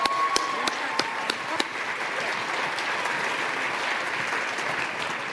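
Steady applause from an audience at a school district spotlight performance, honoring military service members, with a few sharp individual claps at the start before settling into even, moderately faint clapping.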